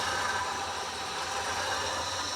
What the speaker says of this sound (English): It's not running good, but it's idling at like 400 RPM, 300, 350 maybe